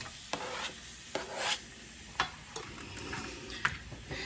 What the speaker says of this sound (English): let's add our onion into the pan